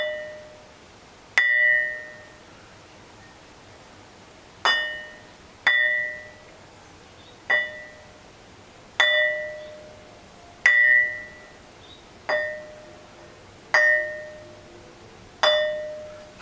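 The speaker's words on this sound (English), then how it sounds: "I can actually feel my fingers underneath are deadening the ringing because I'm holding it" A hand-held ringing rock of metamorphosed quartzite is struck about ten times at uneven intervals, each blow giving a sharp metallic clang with a bright ring that decays over a second or so, heard close and alone.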